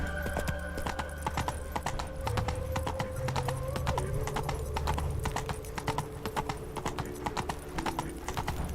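Horse hooves gallop in a steady, rapid clip-clop rhythm, loud and close, with faint tonal game music running underneath in The Witcher 3.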